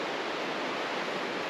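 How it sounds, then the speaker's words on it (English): Yellow Jacket Creek, a forest stream in Washington's Gifford Pinchot National Forest flowing into the Cispus River, rushes in a steady, dense, close wash of water with no voices. "This is Yellow Jacket Creek, which flows into the Cispus River."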